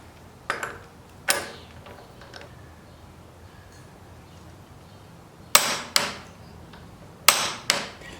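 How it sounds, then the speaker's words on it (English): A torque wrench clicking as a front sprocket bolt on a WR250R motorcycle is tightened, sharp metallic clicks arriving in short groups of two with quiet gaps between them, close, no speech. "So the front sprocket has to be torqued down to 69 foot-pounds."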